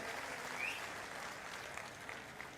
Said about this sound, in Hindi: मैं चाहता हूं एक बार जोरदार ताली उनके लिए बजाएं.